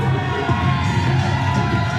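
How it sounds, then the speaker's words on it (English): A wrestling show crowd cheering and shouting loudly and steadily, a dense roar of many voices filling the arena throughout. "the crowd solidly on his side."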